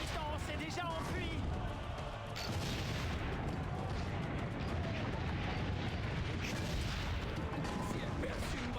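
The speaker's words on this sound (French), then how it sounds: "On pète par 3 canons." Cannon fire booms in repeated volleys of three, dense, loud and rumbling over a chaotic battle scene with voices shouting underneath.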